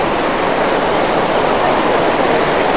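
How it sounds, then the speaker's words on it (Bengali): Jonha waterfall in Jharkhand roars as a steady, loud, unbroken rush of falling water, close by and alone, with no voices over it. "এই হচ্ছে জোনা ওয়াটারফলস।"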